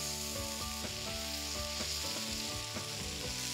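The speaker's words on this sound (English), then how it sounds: "And then we'll turn it once more and sear the other side." Bacon-wrapped albacore tuna searing on an Arteflame grill over a wood fire gives a steady, close sizzle and crackle with scattered pops throughout, no voices.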